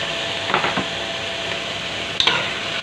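Tomato frying in a pan for pinakbet with garlic, onion and ginger gives a steady soft sizzle, broken by a few scraping stirs of the spoon against the pan, close and alone.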